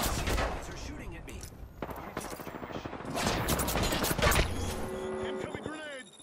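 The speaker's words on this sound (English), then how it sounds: "The enemies are shooting at me." Enemy gunfire in Apex Legends crackles in dense, rapid bursts of shots across the whole stretch. It pauses briefly, then returns in heavy volleys, with a voice heard near the end.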